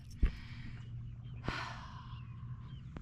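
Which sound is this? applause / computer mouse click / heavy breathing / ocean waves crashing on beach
heavy breathing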